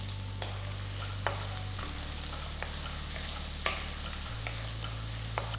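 Steady sizzling of chopped onions frying in oil in a pan, a constant crackle with occasional sharp clicks of a utensil, alongside a low electrical hum.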